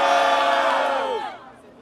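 A loud crowd roars and shouts in approval at a Brazilian rap battle, a dense burst of cheering that fades away after about a second.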